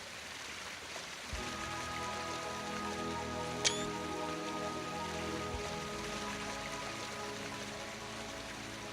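Steady rain falling in the video game Deadly Premonition, a constant hiss of drops at low level under a sustained tonal music drone, with one brief chime partway through.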